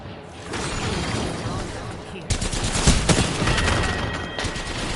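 Apex Legends gunfire crackles as rapid automatic bursts over a busy, noisy battle mix, getting louder and denser partway through, with a sharp impact and ongoing chatter of shots. Voices talk at the same time.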